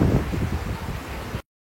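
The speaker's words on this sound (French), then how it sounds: "il y a tout qui se casse avec le vent, il y a mais là c'est le déluge." Strong wind in a deluge rainstorm gusts hard against the microphone, a loud, rough rumble with rustling that lasts under two seconds before cutting off abruptly.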